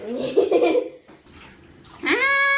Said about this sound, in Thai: อาบน้ำเย็นสบายเลย